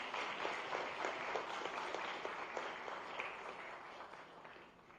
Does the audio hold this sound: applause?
yes